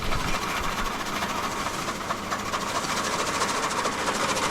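A modified chaff cutter chopping fodder runs as a steady mechanical whir with a fast repetitive chatter throughout, close and continuous, with no speech.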